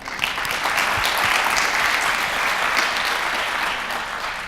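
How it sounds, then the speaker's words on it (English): Steady applause from a conference audience at a large free tech event in Portugal, a dense, even clatter of many hands that holds strong for several seconds. "So quick round of applause for them."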